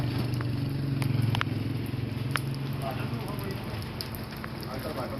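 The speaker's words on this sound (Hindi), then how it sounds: "बारिश हो रही है।" Steady rain patters outside a biryani cooking factory, a soft continuous hiss with scattered drops and faint crackles, heard at a moderate distance under a low background rumble.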